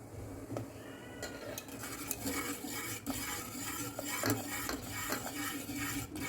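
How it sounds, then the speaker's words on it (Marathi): Rice flour paste is added bit by bit to boiling water and stirred constantly, giving repeated clinks and scrapes of a utensil against the pot over a low bubbling background. "आता मी याच्यामध्ये टाकून घेते आपण तयार केलं तांदळाचं हे चीक थोडंसं थोडंसं टाकून घ्यायचं आहे आणि मिक्स करत राहायचं आहे"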